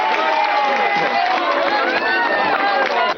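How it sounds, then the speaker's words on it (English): Crowd at a 1996 science fiction convention applauding and cheering, a dense loud wash of clapping mixed with excited voices and chatter, sustained throughout and close. "Everyone's applauding each other."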